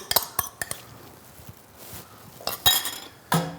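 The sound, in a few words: mixing pork belly with slaw, fennel, apple, onion and dressing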